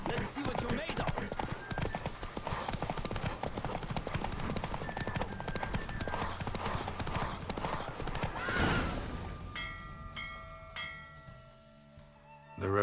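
Roach, the horse in The Witcher 3, gallops in a race with rapid, rhythmic clip-clop hoofbeats over game music and effects. The hooves fade near the end as a musical sting takes over.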